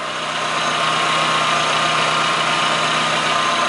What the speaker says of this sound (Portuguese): nosso K7M já funciona com as correias novas aqui